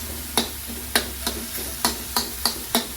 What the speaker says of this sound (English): So listen for that sizzle